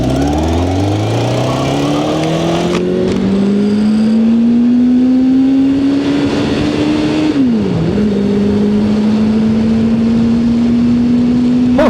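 A Suzuki motorcycle engine drones steadily while riding in second gear at about 60 miles an hour. Its pitch climbs at first, then holds an even, loud tone that dips briefly near the end under constant wind rush.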